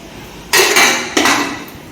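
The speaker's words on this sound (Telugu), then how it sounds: "గిన్నెలు అవి బయట వేసుకొని ఇప్పుడు అన్నీ క్లీన్ చేసుకొని పెట్టేసుకోవాలి" Pots and vessels being handled and cleaned outdoors ahead of Ugadi, with two loud clattering bursts of metal clanking and rattling, close by, with no speech.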